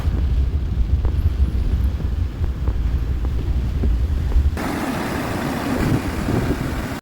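Strong floodwater rushes in a loud, continuous roar around a pick-up truck that was nearly swept away, with no one speaking. The roar thickens into a denser, harsher wash partway through.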